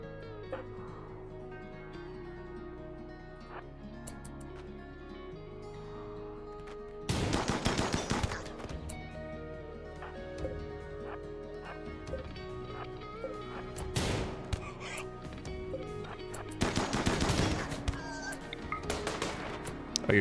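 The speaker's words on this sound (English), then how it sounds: "Oh, you're still shooting at me despite my my friends being here, dude?" Gunfire in a RimWorld Odyssey video game battle: loud bursts of rapid shots around seven, fourteen and seventeen seconds, each a dense rattling volley, over a quiet steady musical background.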